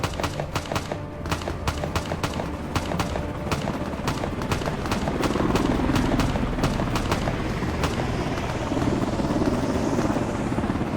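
Helicopter in a Turkish military TV drama scene, its rotor thudding in a rapid, loud, close beat that blends into a constant roaring wash as the craft stays near.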